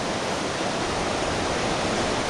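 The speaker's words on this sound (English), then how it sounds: "Here's this river. I'm not sure what the name of this river is." A river at Jones Gap flows beneath a footbridge in a loud, constant roar of rushing water, steady and close with no pauses.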